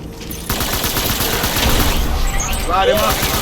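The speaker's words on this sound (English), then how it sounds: "Taking fire." Rapid gunfire in the video game Death Stranding, a dense, loud burst of overlapping shots that continues under a voice calling out, with a brief electronic chirp near the end.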